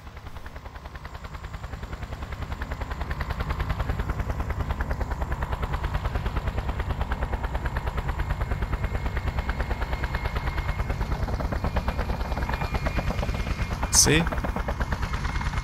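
Constant rapid machine-gun fire rattles over a deep helicopter rotor drone, with a short sharp burst near the end and a brief spoken word, in the video game Just Cause.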